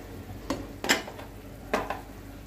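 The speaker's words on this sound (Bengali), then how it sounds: "মশলাটাকে এখন একটু সামান্য কষিয়ে নিব।" Spice paste with cumin leaves is stirred in a pan, giving a few distinct scraping and clinking strokes of a spoon against the metal over a faint, low frying sizzle.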